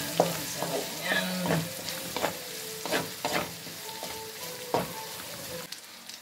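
Garlic and meat sautéing in a pan for pansit bato, with steady sizzling under repeated scrapes and stirs of a utensil, close and moderately loud, with no one talking.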